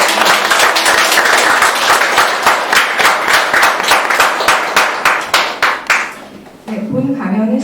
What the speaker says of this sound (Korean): 다시 한번 열강해주신 조천원 선생님께 박수 부탁드립니다